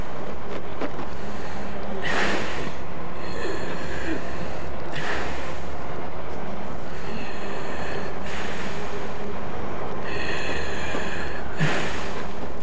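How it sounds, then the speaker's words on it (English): Repeated sharp, breathy gasps for air, about four of them spaced a couple of seconds apart, loud and close against a steady low background hum. "The casualty is gasping for air."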